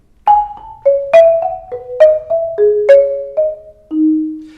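Mallet percussion instrument playing a slurred audition etude passage at tempo, a quicker run of paired struck notes with crisp attacks and short rings, closing on a held lower tone, close and alone.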